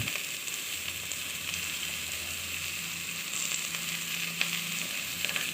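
Broad beans (avarakkai) poriyal frying in a pan, a steady close sizzle with faint scraping as they are stirred, no voices.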